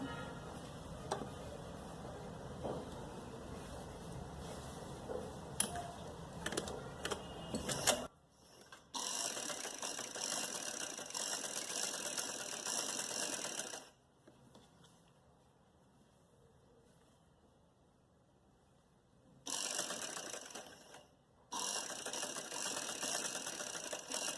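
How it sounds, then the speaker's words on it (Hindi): A sewing machine stitching along a fabric button strip for a neck design, running in steady whirring bursts that stop and start, with quieter gaps between runs, close and moderately loud. "और यहाँ से सिलाई शुरू करेंगे।"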